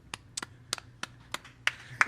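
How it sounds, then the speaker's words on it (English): A handful of people clap sparsely at a live jazz gig, a few distinct, uneven claps spread out and fairly close, with no talking. "A few people clapping in here"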